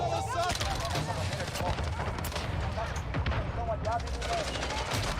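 Gunfire from the Warzone 2 video game, with dense overlapping shots and bursts running continuously through a loud, busy battle mix with other game effects.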